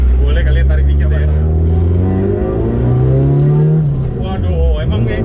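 A Honda Civic EG6 with a VTEC engine revs up hard while accelerating. Its loud, close engine note climbs steadily in pitch, then dips and rises again near the end.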